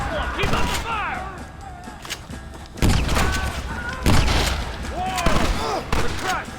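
Gunfire during a Red Dead Redemption firefight, repeated sharp shots and booms in irregular bursts, loud and near, mixed with shouted voices and background battle noise.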